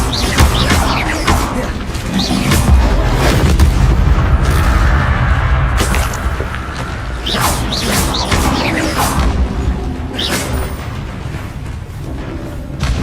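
Bombarda spell blasts in Hogwarts Legacy, a run of loud booming explosions and whooshing spell casts scattered through a busy combat din, with brief voice bits between impacts.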